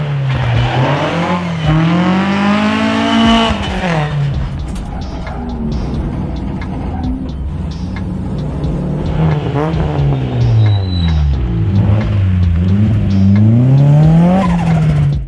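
A race car tackles the Legend of the Lakes hillclimb flat out: its loud engine note climbs and falls through gear changes and corners, with tyre squeal mixed in, and the car stays close and dominant from start to finish.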